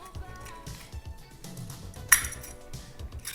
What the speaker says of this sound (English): you're going to want to pry the back lid off